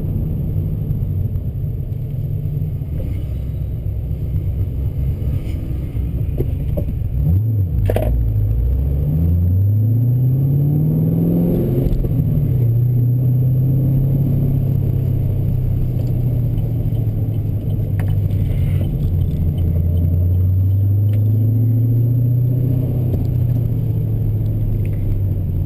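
Vengeance Racing Stage II LS3 camshaft in a car engine idling, a steady deep rumble that settles after a brief rev, with a slow lumpy rise and fall in pitch throughout.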